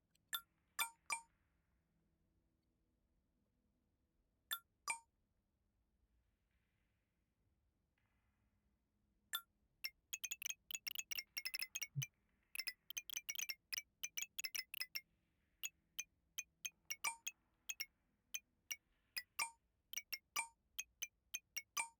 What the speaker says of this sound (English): I love the tink of glass